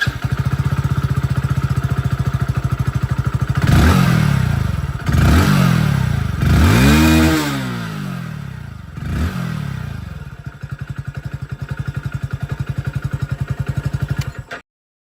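A 100cc commuter motorcycle engine idles steadily up close, blipped through four quick throttle revs that rise and fall, then settles back to a even, ticking idle until it cuts off; no one speaks.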